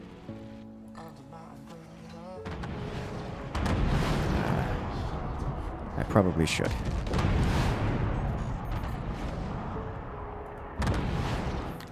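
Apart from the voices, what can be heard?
artillery shells firing in Forts video game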